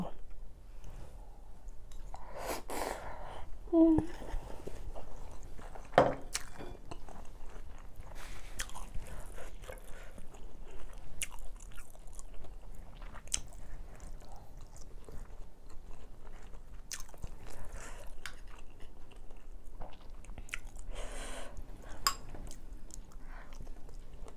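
Someone bites and chews food while eating, with scattered crunches and clicks of chewing spread through the meal, and people talking at intervals.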